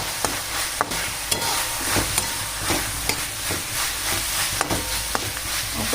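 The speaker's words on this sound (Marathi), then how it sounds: "आता याच्यात आपल्याला भरपूर अशी कोथिंबीर टाकून घ्यायची व शेंगदाण्याचं कूट व हे एकदम मिक्स करून घ्यायचं." Green pea usal cooking in a pan as coriander and crushed peanut are mixed in, a steady simmering sizzle with regular clicks and scrapes of the spoon, close and loud.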